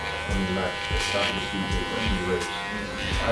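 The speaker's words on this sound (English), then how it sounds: "If I turn the clipper around like this, I pull away." Electric hair clippers buzz steadily while cutting a low skin fade at the neck, a close, continuous hum with brief scraping pulses, accompanied by talking.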